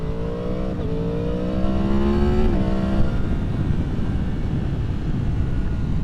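A 2023 Yamaha MT-10 with an ECU flash rides past loudly and close, its engine note climbing through the revs, then the sound flattens into steady engine noise and wind rush.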